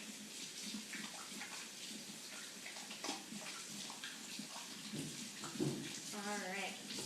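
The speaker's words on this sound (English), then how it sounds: "I'm going to wash my hands because it's always good to make sure everything is clean and sanitary" Tap water runs steadily in a kitchen sink during handwashing, splashing and shifting as hands move under the stream, with a voice speaking over it.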